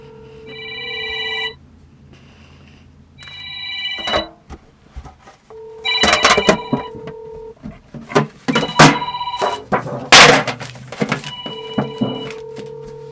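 A cell phone rings after being called, its electronic ringtone coming in repeated bursts with short gaps between them, fairly close and clear, with some handling knocks and thumps mixed in.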